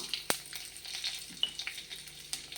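Fennel and cumin seeds sizzle in hot oil with a steady crackling fry, and sharp pops and a few stirring clicks stand out above it.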